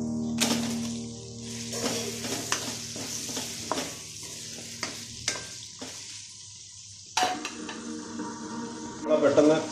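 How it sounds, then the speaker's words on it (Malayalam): Sliced onions for biriyani drop into a hot pan and begin to sizzle, followed by repeated clanks and scrapes of a spoon stirring against the pot, close up. "സവാള ഇട്ട് കൊടുക്കാം."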